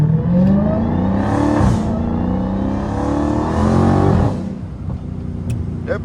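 Catless Hellcat car accelerating hard on a drive, a loud, close engine roar rising in pitch through repeated pulls, with a brief dip between surges and a steady rumble near the end.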